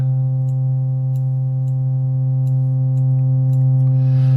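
A sustained, buzzy modular synthesizer note rings steadily with a reverberant wash, light ticking clicks above it and a breathy swell at the close.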